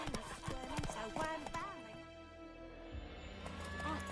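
Horse hooves clip-clop in The Witcher, played on PS5, mixed with a whinny and game dialogue voices over a steady low background.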